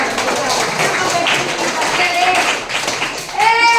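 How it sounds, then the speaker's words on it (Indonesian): Students in a school audience clap their hands at an SMK information session, a dense spread of overlapping claps under a steady crowd murmur, with voices chattering near the end. "Tepuk tangan dulu."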